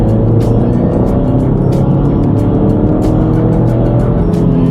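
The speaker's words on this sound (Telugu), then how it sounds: "ఫుల్ యాక్సిలేటర్ ప్రెస్ చేసా." A 2026 Jeep Compass with a 2-liter turbocharged engine accelerates at full throttle, a loud, steady engine and road roar filling the cabin without pause.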